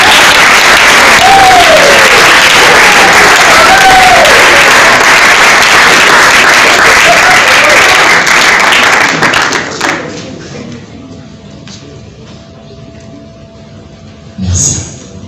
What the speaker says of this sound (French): Je vous redemande d'applaudir frénétiquement pour M.